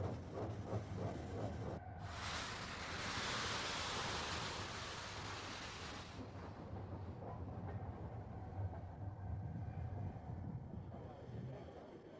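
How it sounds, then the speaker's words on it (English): The steam locomotive Mallard leaves its shed, a broad rushing hiss of steam swelling for a few seconds over a steady low rumble and faint rhythmic clatter, heard from a distance. "the proud locomotive leaves her shed on the way to pick up her train."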